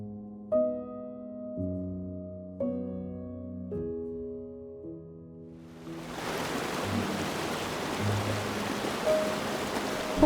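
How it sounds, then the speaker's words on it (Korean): Valley stream water pours over rocks at Sulak Waterfall in Gurye, South Korea; after a few soft musical notes, a steady, full rush of falling water rises and carries on to the end. "천천히 물소리를 따라 계곡 사이로 걸어 들어가면 기암괴석 사이로 쏟아지는 계곡물은"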